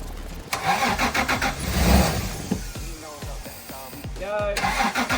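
A Toyota Prado engine with a suspected fuel pump fault cranks over repeatedly with a fast rhythmic churn, catching a few brief firings but not settling, close and loud, with voices talking briefly partway through.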